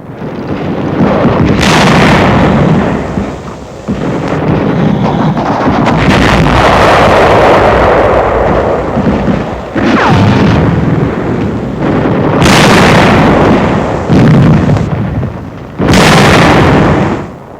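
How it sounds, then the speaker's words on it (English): Shell bursts striking a German tank in 1945 wartime combat footage, with several loud, rumbling booms and blasts over a constant roaring wind-like background. "Jerry tank suffers a direct hit, and the crew leaps from the flames"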